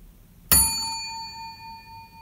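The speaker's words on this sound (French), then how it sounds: "Une sonnette que j'ai trouvée rue Saint-Pierre." A single bright strike on an old doorbell found on rue Saint-Pierre gives a sharp metallic ding that rings on with a clear, slowly fading tone in an otherwise quiet space.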